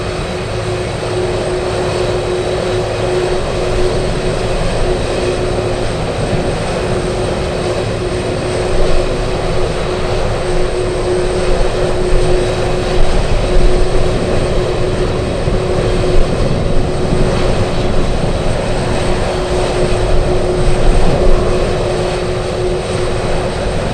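An Atlas Air Boeing 747 sits at Anchorage airport on a gusty day, a loud continuous engine roar with a steady high tone, slowly swelling and easing over the span without talk.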